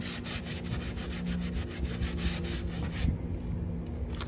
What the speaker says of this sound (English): A stiff brush. If you don't have a pressure cleaner, a stiff brush does a great job